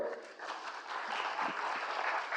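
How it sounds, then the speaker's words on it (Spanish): Steady applause from an audience fills the whole stretch, dense and even, at moderate volume with no voices over it. "Por favor, un aplauso para la doctora."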